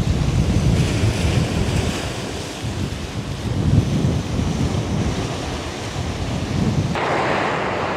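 Sea waves foam and crash against the rocky breakwater at Granatello port in Portici, a loud continuous surf roar with gusting wind buffeting the microphone and no talk.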